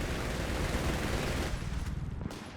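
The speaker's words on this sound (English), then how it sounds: "Even with the Vickers just edging out the MG42." Vickers and MG42 machine guns firing in a video game battle, a dense, continuous barrage of overlapping shots that stays loud before thinning slightly near the end, with no talk.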